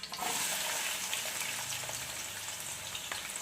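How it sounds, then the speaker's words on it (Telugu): Onion pieces frying in hot oil in a pan for Andhra-style fish pulusu, a steady close sizzle and crackle with no talking. "ఉల్లిపాయ ముక్కలు వేస్తున్నాను."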